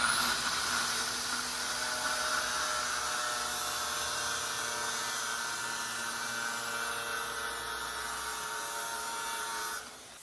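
Power tool whining steadily as it cuts a pontoon boat panel during a restoration, a loud continuous high buzz that holds for about ten seconds and then drops off at the end.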